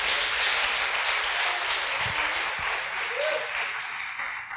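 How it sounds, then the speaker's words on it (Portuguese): A church congregation claps together in praise, a dense and loud wash of applause that stays steady and then eases off a little near the end. "Então vamos aplaudir o nome do Senhor."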